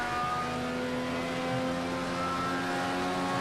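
Race car engine in a racing video game with Indy 500 cars, held at a steady high-pitched full-throttle roar with strong harmonic whine, continuous, loud and close.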